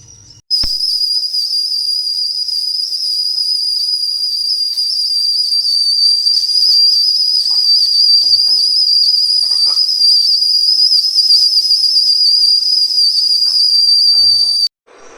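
A loud, piercing pressure cooker whistle screams continuously at a steady high pitch for over ten seconds, then cuts off abruptly, with milk heating in the cooker.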